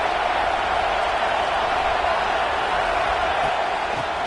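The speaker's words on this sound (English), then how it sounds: "This crowd ready to make its presence known." Stadium crowd at a football game roars in a steady, dense wash of cheering and noise that holds loud and unbroken throughout, with no clear pauses.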